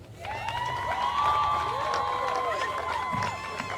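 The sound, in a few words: crowd applause and cheering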